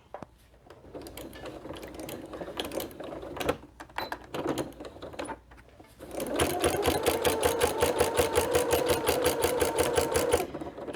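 A sewing machine stitches through thick quilt layers, first in short, hesitant bursts with handling noise, then a sustained, rapid mechanical clatter close by for several seconds before stopping.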